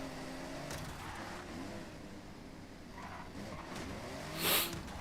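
Car engine drone in a racing video game, a steady moderate hum of a motor running continuously, with a brief louder whoosh near the end.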